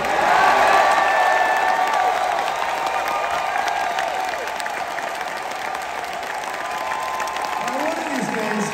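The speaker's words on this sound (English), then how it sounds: "give a round of applause for these guys" A crowd applauds for wrestlers at an AEW Dynamite and Rampage event, a continuous roar of clapping and some cheering, loudest at first and easing slightly, with a voice speaking over it.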